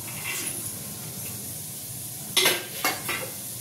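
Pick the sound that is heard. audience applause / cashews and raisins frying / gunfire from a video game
cashews and raisins frying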